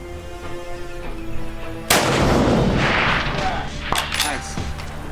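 A single loud rifle shot from a Ruger Hawkeye in 6.5 PRC at a long-range outdoor target session cracks sharply, then rolls into a long echoing boom, with a fainter distant report or impact following about two seconds later.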